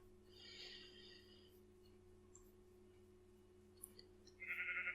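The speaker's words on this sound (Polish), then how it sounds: "Będę musiała zrobić polowania na te beczące moby." Sheep mobs bleat in a survival video game, one drawn-out bleat near the start and a louder, sharper one at the end over a faint, quiet background.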